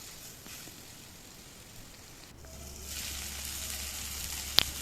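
Tomatoes sauté in a hot pan while pepper kuzhambu cooks, a soft steady sizzle that swells louder midway and keeps a continuous hiss, with one brief sharp tick near the end and no talking.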